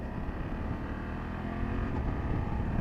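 A 2024 BMW F 800 GS motorcycle riding in dynamic mode gives a steady engine drone with road and wind rush, constant and fairly loud throughout, with no talk.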